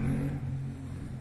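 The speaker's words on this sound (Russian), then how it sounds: "Засранец поехал на мотоцикле, блин" A motorcycle pulls away on a town street in Tonneins, France, its engine humming low and fading slightly at moderate distance, with no talk.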